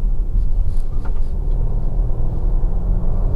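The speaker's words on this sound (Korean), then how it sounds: "제가 지금 와인딩을 좀 타보고 있는 중인데요" A Volvo XC60 B6 SUV, a 2.0-litre supercharged and turbocharged petrol with 48V mild hybrid, drives a winding road, heard as a steady low cabin rumble of road and engine noise without speech.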